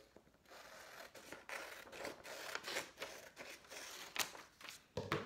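Scissors cut through a paper sewing pattern in a series of quiet, close crisp snips and rustles with no voices.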